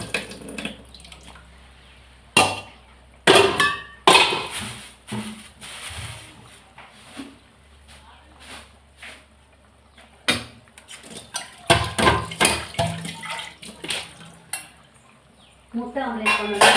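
A cooking vessel is washed in a home kitchen: scattered clinks and knocks of metal and dishware, with splashes of water in uneven bursts, and a voice speaks briefly.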